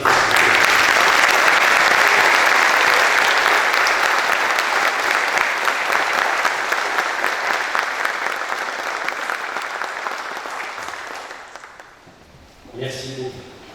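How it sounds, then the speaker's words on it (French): An audience at a university inaugural lecture stands and applauds a professor, a loud, dense round of clapping that slowly fades and then gives way to a brief spoken voice at the end. "Et je demande aux jeunes de se lever et de se joindre à moi pour applaudir le professeur Omar Fassifi."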